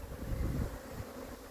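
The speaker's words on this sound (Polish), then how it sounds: "Coś pszczoły trochę brzęczą, no nie wiem, czy to normalne, czy nie." Bees hum in a low, steady drone around beehives in October, close and fairly loud, with a breathy wind-like wash and no talk over it.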